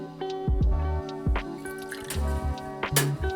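Lime juice poured into a cocktail glass for a tequila drink, heard as a few close, distinct drips and splashes with small liquid squelches in a short burst, with no talking.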